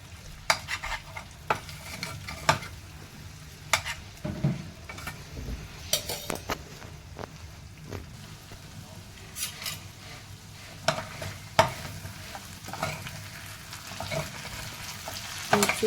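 Potatoes fry in a saucepan with marinade masala while a spatula stirs them all around, giving a steady close sizzle broken by frequent scraping and clinking strokes against the pan, with no talking.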